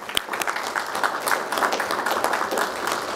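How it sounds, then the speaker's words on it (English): Applause from an audience at a Class of 2023 celebration, a steady wash of many hands clapping that holds evenly through the whole stretch at moderate loudness. "let's give a round of applause for all those"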